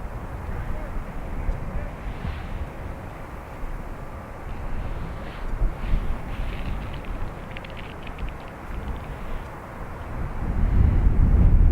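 An Airbus A321neo airliner at Dublin Airport produces a broad, steady roar with wind buffeting, building louder toward the end as it passes.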